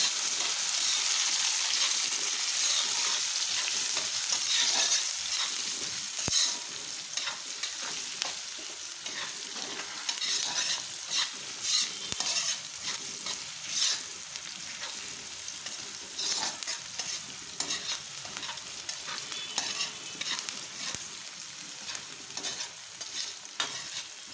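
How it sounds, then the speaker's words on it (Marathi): Chopped onion sautéing in a pan while being stirred for a radish-leaf vegetable dish, a steady sizzle with scraping stir strokes throughout, close and moderately loud, no talking. "कांदा परतून घेऊया चांगला"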